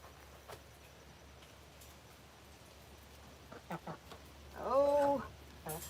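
Chickens in a coop making soft clucks, then one louder drawn-out call near the end, over a steady low background hum.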